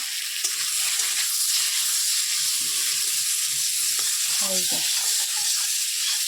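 Oil sizzles steadily and loudly throughout as potatoes fry in a little oil left from frying eggs, with occasional scraping stirs and a brief clink near the end.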